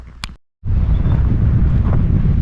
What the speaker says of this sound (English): We're going to test the hs600d in this high wind.